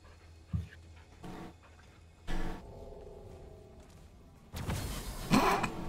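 A feral dog in the video game Remnant: From the Ashes pants and whimpers in short, faint bursts separated by quiet gaps, ending in a louder, rougher flurry.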